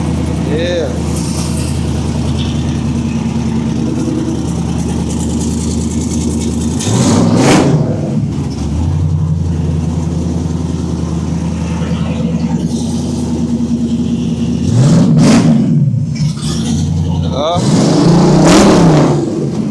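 An LS-swapped twin-turbo 1987 Monte Carlo SS G-body running on E85 idles loudly up close, with several sharp revs rising and falling over the steady rumble while people talk nearby.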